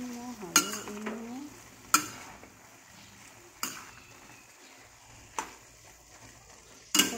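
Pancit noodles being stirred in a pan, with a sharp utensil scrape against the pan about every second and a half and a soft, steady sizzle underneath.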